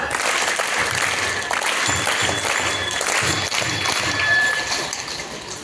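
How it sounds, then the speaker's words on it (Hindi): A school audience in India claps loudly and continuously for several seconds, a full, even round of applause that fades slightly at the end. "बड़ी ताली बजा"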